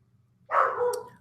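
A dog gives a single loud, close bark that rings for under a second after a quiet lead-in, with no talk around it.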